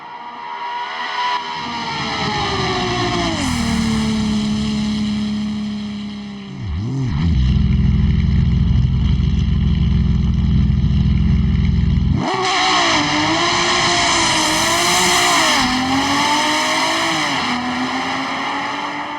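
Car engine in Assetto Corsa fitted with Australian mods, revving up through gears, then a heavy low drone as speed falls under hard braking, before climbing again through a loud, close wail; no talking.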